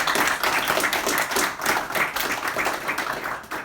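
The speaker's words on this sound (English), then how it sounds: "Round of applause." Audience applause at a bookshop talk, steady close clapping from a small crowd, loud and continuous throughout with no speech over it.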